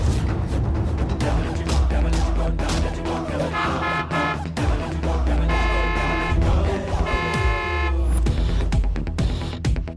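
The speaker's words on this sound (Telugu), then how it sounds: "హార్న్ కొడుతున్నా ఇంకా చూపేంటే బండి తీయకుండా." A car horn honks repeatedly in short and longer bursts at a cramped parking spot, loud and close, with people talking around it.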